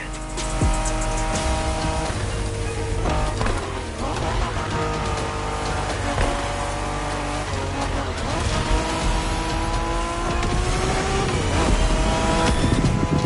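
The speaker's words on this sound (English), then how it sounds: "We're going for some proper Japanese street racing." Cars street racing in the video game GTA 5, with loud engines revving and shifting through gears alongside tire squeals, continuous throughout, while people talk over the racing.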